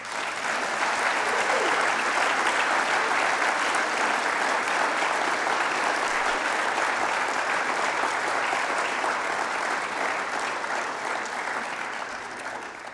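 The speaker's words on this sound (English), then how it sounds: "Will you please join me in applauding these young adults?" A large audience applauds young adults at a flag presentation ceremony, with sustained, dense clapping that holds steady for the full stretch and tapers only slightly at the end.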